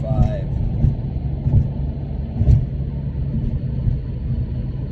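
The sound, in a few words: Porsche 911 993 engine accelerating in fourth gear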